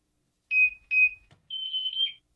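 A parrot imitates a smoke alarm: two short, piercing electronic beeps followed by a longer warbling alarm tone. The sound is loud and close, with silence between calls.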